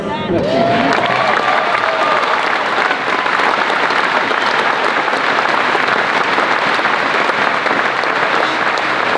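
Loud, sustained applause from a large audience at a speech, steady dense clapping with some cheering that fills the whole stretch, a brief tonal voice rising at the start.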